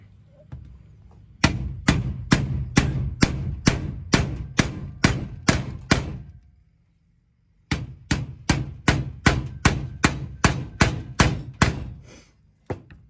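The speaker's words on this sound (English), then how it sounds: "take your hammer and just bend these tabs over both ways" Steady, rapid hammer blows bending metal tabs on a 1969 Torino Cobra grille, two runs of about a dozen sharp strikes each, separated by a brief pause.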